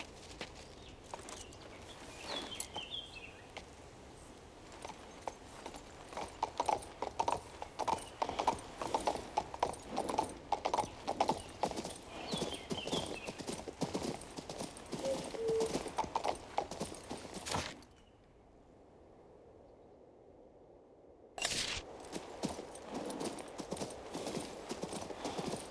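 Steady horse hooves clip-clopping from a mount in the video game King's Bounty II, with an occasional whinny, running rhythmically for most of the stretch, dropping out briefly near the end before resuming.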